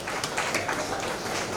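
An audience at a 60th birthday celebration at an old-age home claps together in a dense, steady burst of applause.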